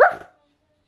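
A dog barks once in a video game, a short sharp close bark that fades quickly into silence.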